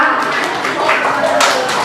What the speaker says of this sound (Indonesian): Tolong berikan tepuk tangannya dulu